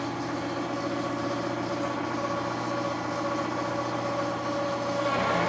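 A Cincinnati Bickford Super Service 5-foot radial drill running in gear, giving a steady, loud mechanical hum and whir with a faint rhythmic rattle that holds constant and rises slightly at the end.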